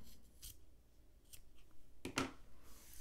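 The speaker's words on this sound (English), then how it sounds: "So we have a tassel here, and let's cut it off straight." Scissors snip through the end of a yarn tassel for a crochet bookmark, a few quiet, close, sharp cuts with the louder pair near the end.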